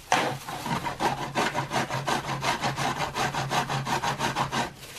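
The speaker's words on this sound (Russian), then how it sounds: "Натираем хрен на терке." Fresh horseradish root is rubbed against a fine kitchen grater in quick, steady rasping strokes, about four per second, close and fairly loud with no talking.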